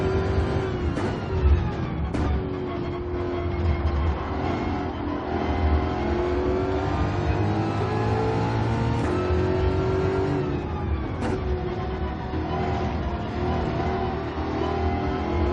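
A Ford Mustang Group 4 race car's 5-liter V8 roars in Gran Turismo 7 at Watkins Glen, a continuous loud engine note rising and falling through gear shifts and revs, with other cars nearby.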